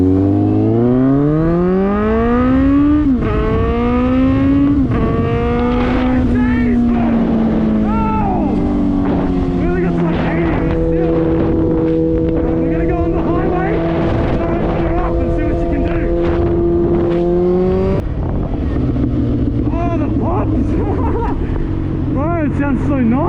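A Suzuki GSX650F motorcycle fitted with a new aftermarket exhaust revs and pulls away, its engine note climbing through repeated rising gear sweeps, loud and close with wind rush.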